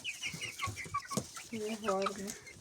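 Young chicks and hens of several breeds, including white Leghorns, clucking and chirping in a home flock, with a clear trill of harmonic calls near the end over a busy backdrop of bird sounds.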